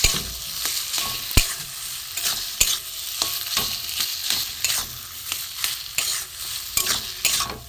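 Boiled kohlrabi and potato mash stirred in a frying pan, with repeated spoon scrapes and knocks against the metal over a steady background sizzle, close and fairly loud, no talking.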